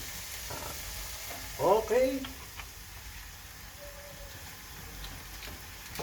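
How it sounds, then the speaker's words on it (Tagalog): Bitter gourd (ampalaya) sizzles steadily while being sautéed with soy sauce in a pan, a soft continuous frying hiss with a faint crackle, as a voice speaks briefly near the middle. "itong niluluto kong ginisang ampalaya"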